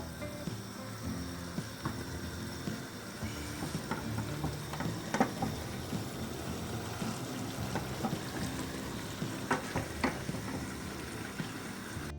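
Meatballs and vegetables fry and stew together in a pan, a soft continuous bubbling sizzle with scattered small pops and clicks, quiet and close, no talking over it.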